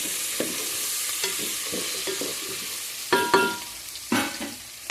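Chicken curry with turmeric fries in a pan, a steady bright sizzle broken by several scraping stirs, the last few louder and closer.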